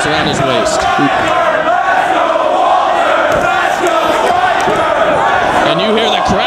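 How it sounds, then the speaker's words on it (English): Ring of Honor wrestling crowd trading dueling chants back and forth for two wrestlers, a loud, dense, continuous roar of voices filling the arena throughout. "And you hear the crowd dueling chants back and forth for both men."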